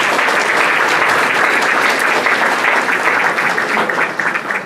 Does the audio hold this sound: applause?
yes